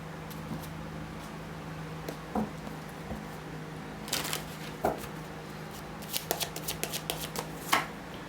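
Tarot cards shuffled by hand at close range: soft riffling and a series of quick papery snaps and flicks, quiet with a faint steady hum underneath and no talk.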